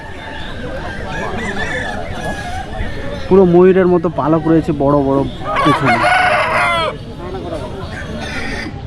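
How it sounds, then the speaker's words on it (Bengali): Fighting rooster crowing loudly at a busy livestock and poultry market, several drawn-out crows and clucks close by, over someone talking and a background of crowd chatter. "এই একটা মুরগি এটা হচ্ছে লড়াইয়ের মুরগি"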